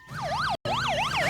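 A cartoon police car siren wailing loudly, a rising and falling two-tone sweep repeating about three times, cut off briefly by a short gap of silence before resuming.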